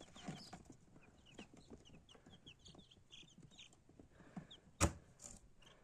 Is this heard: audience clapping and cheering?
no